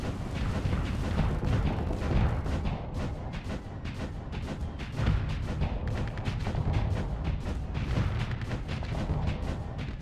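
A weapon fires rapidly in the space combat game Starsector, producing a steady, fast stream of booming shots that continues without a break at a consistent loudness.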